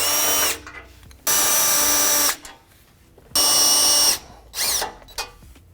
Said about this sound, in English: Now remove these three screws that are holding the lower section of the end cap to the center part of the bumper.